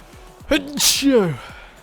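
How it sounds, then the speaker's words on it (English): A single sharp sneeze close to the microphone, with a brief vocal intake before the burst and a short voiced tail after. "Oh, I sneezed and it knocked my focus off."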